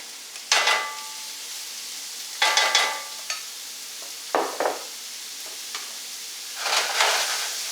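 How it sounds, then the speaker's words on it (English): Diced onions, a little over two cups, sizzle in olive oil in a pan for a bean soup, with several bursts of hissing and scraping as they are stirred, close and fairly loud, with quieter crackling between and no talking. "And now I'm going to start to do the vegetables. So here's the onions."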